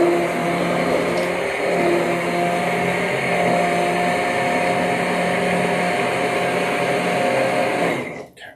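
An electric blender purees tomato basil soup with a steady, loud motor whir that runs unbroken for about eight seconds, then cuts off abruptly at the end.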